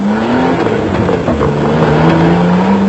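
The turbocharged Nissan Sani off-road race car in the 1995 Settlers Off Road Race gives a loud, continuous engine drone whose pitch dips and then climbs steadily as it accelerates, with no talk over it.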